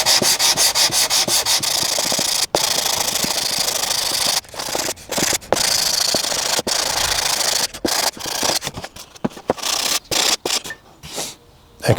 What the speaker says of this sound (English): And now just finishing that off with my sanding bar.